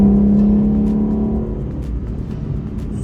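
A Lexus LC500 engine holds a strong, steady rev around 4000 rpm from inside the moving car, loud and droning before easing back to a lower cruising hum.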